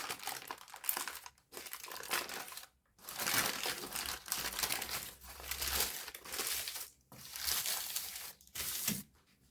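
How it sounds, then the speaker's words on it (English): Parchment paper crinkling and peeling away from the sides of a burnt Basque cheesecake, several close crackly bursts separated by short pauses, with no talking. "remove the parchment paper from the sides"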